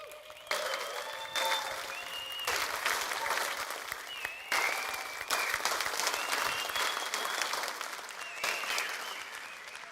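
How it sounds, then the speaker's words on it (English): A big round of applause from an audience at a business session, full clapping that surges in waves with short dips between them, with whistles and cheers rising over it. "Give Greg Vermeer a big round of applause."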